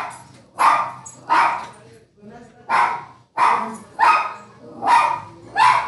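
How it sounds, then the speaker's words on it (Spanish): A small female dog barks in sharp repeated bursts, about eight yaps in steady rhythm with brief pauses, loud and close, heard indoors during a Latin class. "ya nos empezó la perrita a ladrar"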